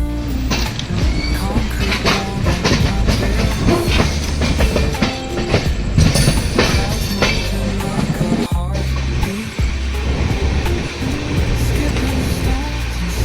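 The Simhapuri SF Express sleeper class coach rumbles along the rails with a continuous loud roar and irregular clickety-clack wheel knocks, heard from inside the moving train.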